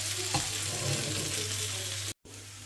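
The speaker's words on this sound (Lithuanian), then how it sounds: "O dabar kepame papriką su pomidoru." Bell pepper and tomato fry in a pan with a steady close hiss and crackle, a brief scrape of stirring near the start and a momentary cut near the end.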